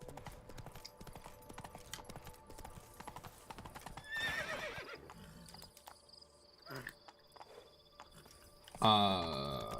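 Roach, the horse in The Witcher 3, clops along with rhythmic hooves, then lets out a loud whinny at the very end, over game ambience and some brief voiced sounds.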